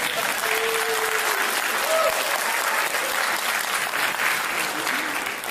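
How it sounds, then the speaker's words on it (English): Enthusiastic audience applause at an award ceremony, a loud, continuous crowd clapping sustained throughout, with brief faint voices or whoops poking through the wash. "so much clapping, it's great"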